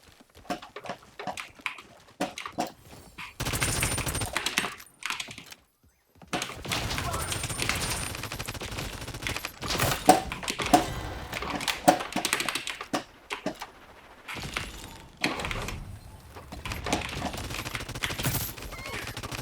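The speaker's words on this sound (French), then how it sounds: "Quelqu'un a tenté de tirer avec une arme" Gunfire rattles through a Realm Royale match in rapid bursts and volleys, loud and close, broken by short silent gaps. People talk over parts of the shooting.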